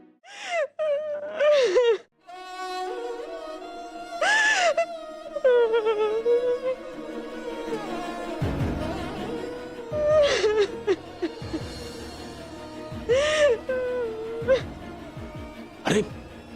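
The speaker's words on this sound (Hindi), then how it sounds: "ये किसके रोने की आवाज आ रही है?" A woman sobs and wails in distress with broken moans, gasping breaths and whimpers that rise and fall in bursts over about sixteen seconds, fairly close and loud, with music underneath.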